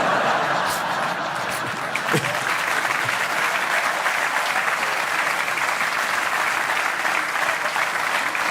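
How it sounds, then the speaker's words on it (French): A comedy show audience claps steadily throughout, a dense, even wash of applause with a few scattered chuckles, loud and continuous with no pause. "Et vous applaudissez parce qu'on le sait tous ici."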